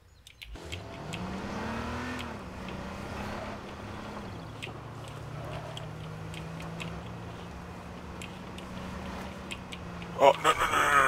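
A car engine in the H1Z1 King of the Kill battle royale game runs at a steady drone, rising briefly then holding a level hum for most of the stretch, with sharper clicks and game noise near the end.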